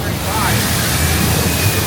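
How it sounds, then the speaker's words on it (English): Waterfall at the Universal Epic Universe theme park, a dense broadband rush of falling water that fills the whole clip, steady and fairly loud, with faint voices mixed in. "Look at the waterfall."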